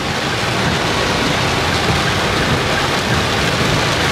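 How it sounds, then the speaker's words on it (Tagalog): Loud, dense downpour in Baguio roaring steadily and evenly throughout, close by, with no talking. "Sobrang lakas ng ulan, grabe."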